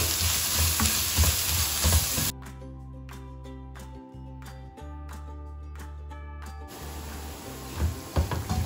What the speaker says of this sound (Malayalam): നമുക്കിത് നന്നായിട്ടൊന്ന് ഇളക്കി യോജിപ്പിച്ച്